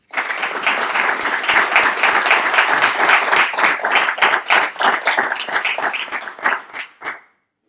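A lecture audience claps in a loud, dense round of applause that holds steady for about seven seconds, then thins and stops abruptly.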